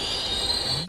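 A train's wheels squeal loudly and steadily under emergency braking after the alarm chain is pulled, a continuous high metallic screech holding for nearly a second before cutting off.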